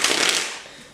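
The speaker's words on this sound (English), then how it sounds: "say if I did a riffle shuffle," A deck of playing cards is riffle shuffled, a quick loud burst of rapid flicking that tapers off within a second.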